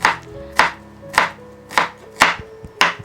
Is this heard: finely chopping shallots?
yes